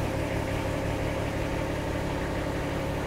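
A car engine idles steadily in a street setting in Virginia, a continuous low rumble with a faint hum that holds even throughout, with no voices over it.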